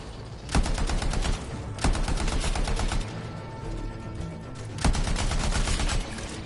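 Rapid bursts of automatic machine-gun fire rattle continuously, with several sharper shot accents over a dense, steady barrage of combat in the video game Anthem.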